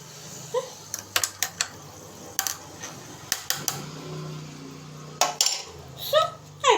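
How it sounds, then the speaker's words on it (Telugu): A spoon stirs freshly poured Sprite in a glass, making a run of light, sharp clinks and taps in irregular bursts, close and fairly quiet, with a faint voice in the background. "స్ప్రైట్ని పోసుకుంటే మిక్స్ చేసుకోవాలి"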